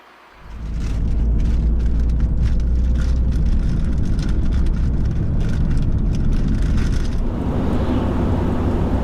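Steady road and engine rumble from a car on a long drive between Switzerland and Luxembourg, starting after a short quiet moment and holding a loud, even level throughout, with broadband tire and wind noise.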